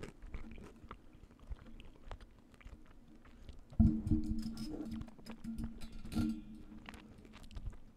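Someone chews Skittles candy up close, soft wet crunching and munching with a few sharper bites standing out, quiet and intimate with no talk.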